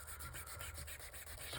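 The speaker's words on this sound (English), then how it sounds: "scrape it up a little bit with my sanding disc" A sanding disc rasps across a surface in quick, repeated rubbing strokes, quiet and close with a steady scratchy rhythm.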